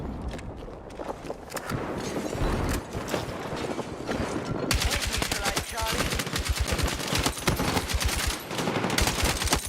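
Loud rapid automatic AK rifle fire in Battlefield 6, dense overlapping bursts close up, with the rattle growing heavier and more continuous in the second half amid other game noise.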